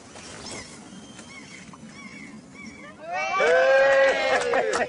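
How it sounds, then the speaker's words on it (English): Seagulls on the island of Easdale in Argyll call overhead, faint at first and then a loud, close burst of repeated cries over steady outdoor background noise. "Please keep quiet, seagulls."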